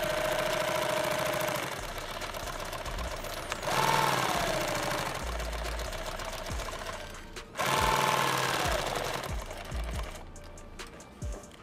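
Industrial sewing machine stitching a seam on a 2 quart canteen lid for a 40 mike mike build, running in steady whirring bursts with a brief pause mid-clip, close and fairly loud.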